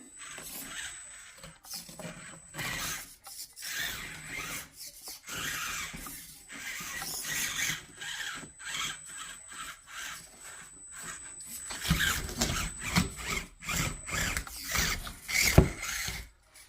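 An SCX24 Bronco RC crawler, with a new transmission fitted, runs with its tires rubbing against the body, making a close, uneven whirring and scraping with ratchety gear noise that rises and falls throughout.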